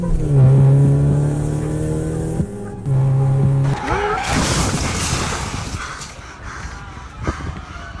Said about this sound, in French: Thomas Sullivan, au volant de sa voiture, pulvérise à 200 km/h l'arrêt de bus rue Petit à 7h43 et meurt sur le coup.